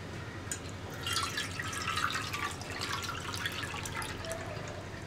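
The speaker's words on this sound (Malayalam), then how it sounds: "കുറച്ചുകൂടി വെള്ളം ഒഴിച്ചു കൊടുക്കാം." Water poured into a clay pot during seasoning, a soft continuous splashing and dripping stream, faint and close, with no voices.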